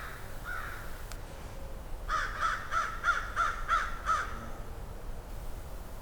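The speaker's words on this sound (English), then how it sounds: "I need to record those crows in the woods today." Crows caw in woods, sending out a rhythmic series of about eight harsh calls at a moderate distance over a steady outdoor background hiss.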